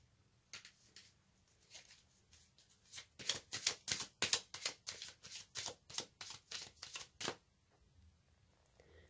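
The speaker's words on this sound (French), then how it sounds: "je vais tirer une carte de l'oracle aromatique pour avoir un message supplémentaire" Aromatic oracle cards being shuffled by hand, with a few scattered riffles first, then a close, quick run of crisp flicking card slaps that fades to quiet, with no talk.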